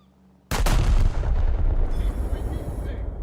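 Naval guns fire in a War Thunder battle, opening with a sudden loud, heavy blast that rumbles and booms on for several seconds with no talk over it.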